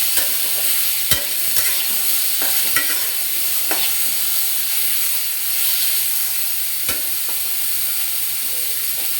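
Bottle gourd with green chilies being stirred in a frying pan, a constant loud sizzle and hiss with occasional sharp scrapes and knocks of the spatula against the pan.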